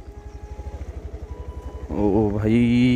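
A motorbike engine thuds in a steady rapid pulse while riding over a muddy, landslide-damaged mountain road, then a voice breaks in loudly over it.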